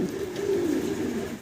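Fancy pigeons coo in a steady, low, continuous murmur close by, the throaty cooing running through the whole short stretch with no talking.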